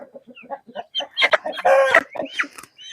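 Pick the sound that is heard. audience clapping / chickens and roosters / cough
chickens and roosters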